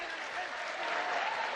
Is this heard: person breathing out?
no